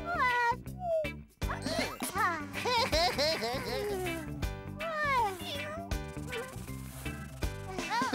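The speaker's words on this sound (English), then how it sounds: "it's only the little black cat" A cartoon cat, a little black cat in a children's animated episode, meows a few times over busy background music, with the calls rising and falling in pitch.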